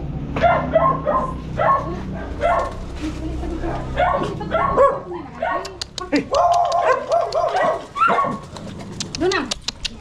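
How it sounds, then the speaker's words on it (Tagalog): A dog barks repeatedly in short sharp bursts with some yipping and whimpering, close and loud, at a rural purok site in Matubog, Camiling, while people talk nearby. "Aso."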